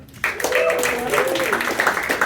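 An audience at a comedy club breaks into applause, a dense wash of clapping that swells quickly and holds steady while a voice speaks over it.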